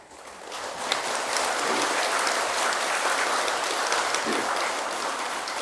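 Sustained applause from a lecture audience at a Buddhist sermon on the Diamond Sutra, dense steady clapping that swells in quickly and holds for several seconds without speech.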